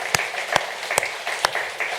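A church congregation at a Sunday evening worship service claps together in a few sharp, evenly spaced beats over a steady wash of crowd noise, with no speech.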